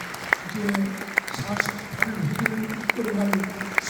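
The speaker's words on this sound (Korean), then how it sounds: "박수로 축하해 주시기 바랍니다." A standing church general assembly congregation applauds to celebrate newly installed officers, producing steady, moderate clapping from a large crowd throughout, with a few sharper individual claps standing out and faint voices beneath.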